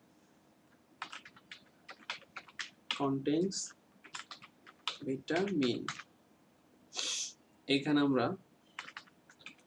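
Fingers tap a computer keyboard while writing CSS code, producing bursts of quick, close clicks in uneven runs, broken up by someone talking at intervals.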